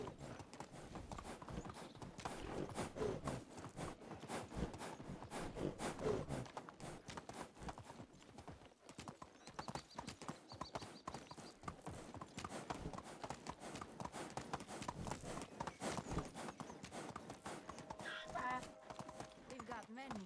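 Donkey hooves clip-clop steadily along a path in the medieval survival game Medieval Dynasty, a continuous even walking rhythm running throughout, with someone talking over it.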